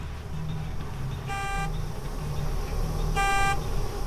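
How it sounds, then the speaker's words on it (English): In a video game, a car alarm gives two short bursts of a harmonic tone, roughly two seconds apart, over a steady low engine-like rumble. "There's a car going off."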